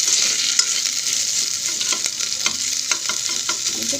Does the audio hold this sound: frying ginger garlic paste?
yes